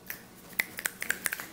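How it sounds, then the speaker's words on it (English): Scattered finger snaps from a meeting audience at a Toastmasters gathering, a handful of sharp dry clicks spread unevenly over a second or so, fairly close and quiet with no talking. "we typically will snap our fingers"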